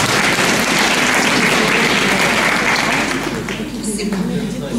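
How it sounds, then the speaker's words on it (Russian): An audience at a school rock festival concert applauds loudly and steadily, a dense wash of clapping that begins to fade toward the end. "Аплодисменты, пожалуйста."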